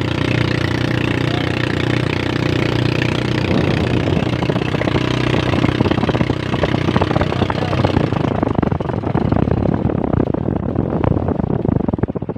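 A motor idles loudly and steadily up close with a rough, clattering rumble, then the sound abruptly changes and thins out near the end as the engine cuts out.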